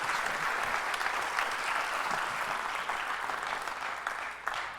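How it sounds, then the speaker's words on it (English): An audience at the YITCON14 event applauds steadily for an introduced speaker, with dense, sustained clapping close by that continues without interruption. "Please give him a big round of applause."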